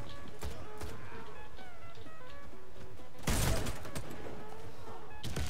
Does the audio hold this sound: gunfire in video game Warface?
yes